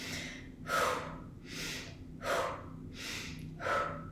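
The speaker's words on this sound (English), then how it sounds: "start by breathing in through the nose and then pursing your lips like you're gonna breathe out through a straw" Breathing in through the nose during a rescue breathing exercise, five close, distinct breaths at roughly even intervals, soft airy rushes with quiet pauses between.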